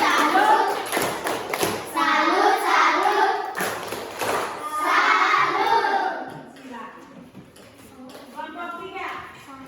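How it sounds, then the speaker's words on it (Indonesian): A school class claps a rhythmic group salute in bursts of sharp hand claps and thumps, mixed with children's voices and chanting that fade toward the end. "Kita tepuk salut dulu untuk kelompok 2"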